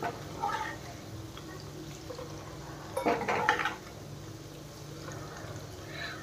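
Ghee strained off cooked milk cream in a pan: a soft continuous liquid trickle and drip with light metallic pan clinks, building to a brief louder pour midway, then settling back to a quiet trickle.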